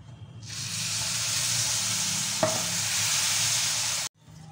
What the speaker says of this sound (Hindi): शीरा डाल के दो तीन मिनट सिर्फ भूनना है इसको हल्की आंच पे